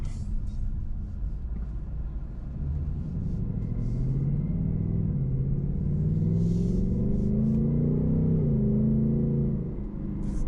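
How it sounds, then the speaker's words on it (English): From inside a 2024 Ford Mustang GT RTR on the road, the V8 engine gives a deep continuous rumble whose pitch climbs and falls as it accelerates through gears, steady and fairly loud, with no talking over it. "Man, that V8 sounds good."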